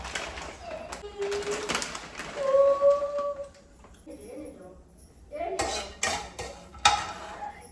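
Sunflower, pumpkin and flax seeds with dry fruits being roasted in a pan with ghee for laddu, heard as intermittent clinks and scrapes of a utensil against the pan, with quiet gaps between bursts.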